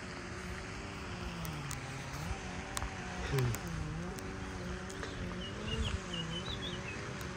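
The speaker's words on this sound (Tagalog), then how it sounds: "Ibon yun" A bird calls outdoors on a walk: a few faint high chirps and short whistled notes rise above a constant low drone of distant engines and wind, fairly far off.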